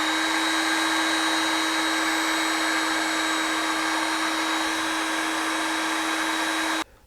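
A heat gun shrinking heat shrink tubing over automotive wiring blows a loud, steady whine with a constant tone for several seconds, then switches off at the end.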